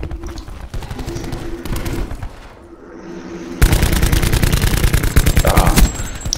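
Rapid automatic gunfire in a shooter video game, loud and dense, broken by a short lull before a heavier, closer burst of sustained shots.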